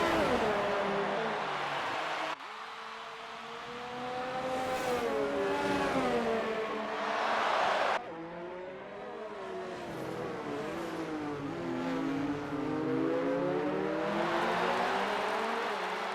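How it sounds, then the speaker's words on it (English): Race cars in a Grand Prix racing video game at the German track scream past with rising and falling engine whines, steady and loud, with abrupt camera cuts between cars and no talk. "Cesare still hassling the back of the McLaren."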